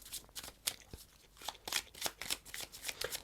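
Tarot cards being shuffled by hand in a steady run of crisp riffling flicks and taps, close and fairly quiet, with no talking over them.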